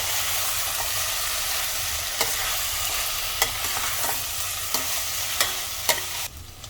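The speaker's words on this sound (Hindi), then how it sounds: "अब इसमें ये फ्राई किए हुए आलू और गोभी ऐड कर देंगे और इसे मसाले के साथ अच्छे से मिक्स कर लेंगे।" Fried potatoes and cauliflower being mixed with masala in a hot pan: a steady broadband sizzle with scattered scraping clicks from the spoon, close and continuous, with no voices.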